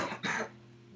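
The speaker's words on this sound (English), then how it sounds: "Except for a cough from the ether." A single short, throaty cough, close and fairly clear, that fades into quiet room noise with no talking.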